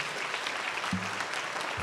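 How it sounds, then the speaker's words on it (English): Town hall audience applauding officers in the room, a soft, steady patter of clapping throughout that stays fairly quiet and diffuse. "If we can give them a round of applause for serving us."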